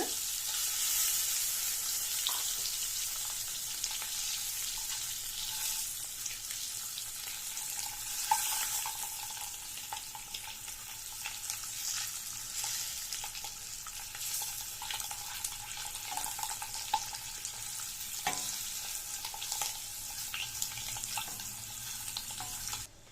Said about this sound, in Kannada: ಹಾಕ್ಕೊಂಡು ಲೋ ಫ್ಲೇಮಲ್ಲಿ ಇಟ್ಕೊಂಡು ಕಲರ್ ಬದಲಾಗೋವರೆಗೂ, ಬಣ್ಣ ಬದಲಾಗಬೇಕು ಅಲ್ಲಿವರೆಗೂ ಫ್ರೈ ಮಾಡ್ಕೊಳ್ಳಿ ಮೊಟ್ಟೆನ